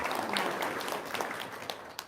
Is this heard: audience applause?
yes